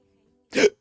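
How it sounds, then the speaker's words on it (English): A single short hiccup, abrupt and close, after half a second of near silence. "Oh, the hiccups."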